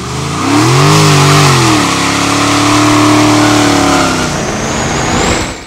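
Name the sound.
Dodge Challenger Scat Pack engine revving, wheelspin with traction control eased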